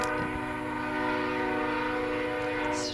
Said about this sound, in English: there are days where it's just non-stop trains